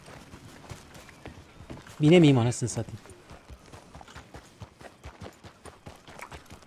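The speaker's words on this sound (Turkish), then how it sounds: "Şu an at kendi kendine gidiyor bu arada" Horse hooves trot in Red Dead Redemption 2, a steady rhythmic clip-clop running throughout under someone talking, with one louder vocal outburst in the middle.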